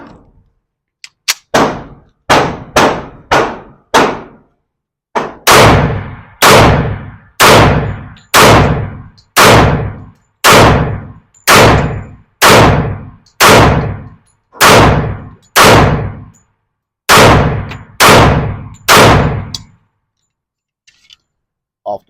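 Rock Island Tac Ultra 2011 pistol in .45 ACP fired in a long steady string of about two dozen loud, sharp shots, a brief cluster at the start, then evenly spaced reports with short ringing decay.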